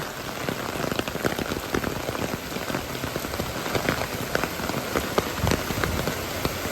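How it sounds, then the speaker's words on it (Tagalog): Heavy rain pours down steadily and densely, drumming on surfaces up close with constant spattering and no pauses. "Grabe ang ulan. Malakas ang rain guys."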